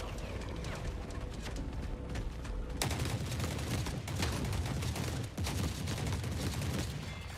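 Video game gunfire: dense rapid crackling shots rattle almost without pause, with a louder sharp crack partway through and sustained bursts of fire continuing to the end over low rumble.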